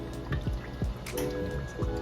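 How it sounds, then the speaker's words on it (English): Vegetable oil pours into a pot for frying perch, with soft liquid dripping and glugging sounds over a low steady background. "So we're going to pour our oil in."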